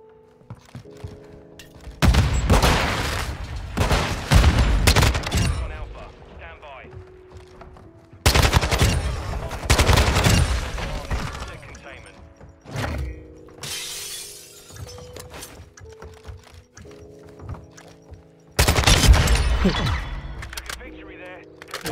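Kastov 545 AK rifle in a Call of Duty game, firing in four long, loud, rattling full-auto bursts with sharp cracks and glassy impacts, separated by quieter gaps where someone talks.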